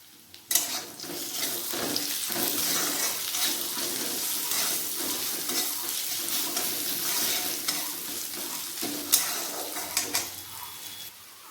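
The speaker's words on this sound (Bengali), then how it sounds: "পেঁয়াজ লাল লাল করে ভেজে নিয়েছি" Sliced onions fry in hot oil with black cumin, bay leaf and salt for a Bengali magur fish curry, giving a steady, close sizzle broken by a few sharp clatters from stirring.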